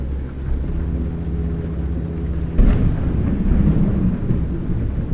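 Steady rain with rumbling thunder from a thunderstorm in American Truck Simulator, a low continuous roar that swells into a louder thunder crack halfway through, with no voices.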